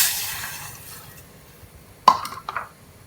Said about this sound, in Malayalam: 1 കപ്പ് വെള്ളം ഒഴിച്ചു കൊടുക്കാം.